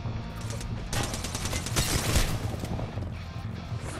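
Video game gunfire, a rapid fusillade of shots that swells to a dense burst in the middle and then thins out, loud and close with no talking.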